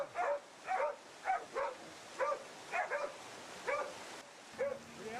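Hunting dogs bay at a wild boar in a series of sharp, repeated barks about every half second, moderately close and loud, with no talk over them.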